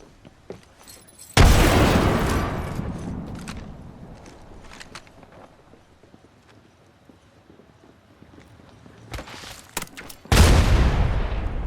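Grenade blast and gunfire in a battle royale shooter game: a loud, sharp explosion opens, scattered shots crackle in between, and a second heavy blast lands near the end.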